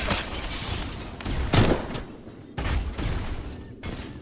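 Frag grenades exploding in a video game: two sharp blasts a second apart, each a loud burst that decays into rumble, with a quieter stretch between.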